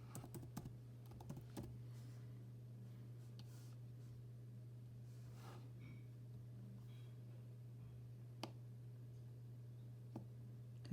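Faint, sparse keystrokes on a computer keyboard, clustered early and then a few isolated clicks, over a steady low electrical hum in a quiet room.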